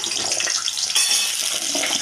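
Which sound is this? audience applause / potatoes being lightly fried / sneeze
potatoes being lightly fried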